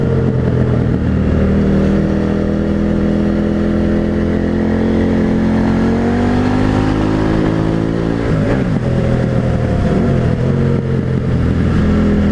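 KTM 890 Adventure R motorcycle riding Angel's Crest Highway in Southern California, its engine droning loud and steady throughout, with a pitch rise and shift around the middle as the rider accelerates, no voices.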